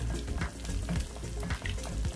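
Bihon noodles with egg stirred as they fry in a pan, a continuous sizzle broken by repeated scraping strokes of the utensil at a steady rhythm, close and fairly loud with no talking.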